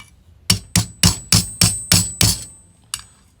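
A small hammer strikes the battered, abused end of an old hand tool: seven sharp metallic blows in a steady rhythm, then a final lighter tap after a short pause, close and clear with no talking.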